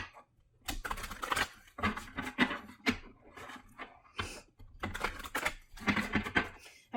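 Crisp papery riffling and slapping of tarot cards being shuffled in repeated bursts, close up, with short pauses between rounds.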